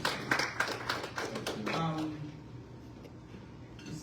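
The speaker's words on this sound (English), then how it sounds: "Let's give him a round of applause." Audience applause for a program coordinator at a panel event on the plight of girls in Northern Nigeria, with sparse, distinct claps in the first two seconds before it thins into room tone under faint voices.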